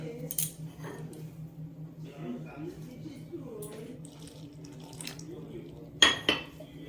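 Kashmiri chili powder and salt are stirred into water in a bowl, with soft, faint clinks and scraping of utensil against dish under a quiet voice, and a sharper clatter near the end.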